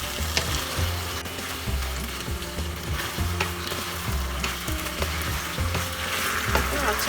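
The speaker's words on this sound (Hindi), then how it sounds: "अभी हमें फ्राइड चिकन डालना है, इसे अच्छे से मिक्स करना है।" Fried chicken stirred and frying in orange chicken sauce over medium-high flame, a continuous loud sizzle with rhythmic scraping and knocking of a utensil against the pan, close with no talking.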